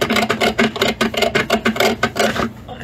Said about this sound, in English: I'm cutting away plastic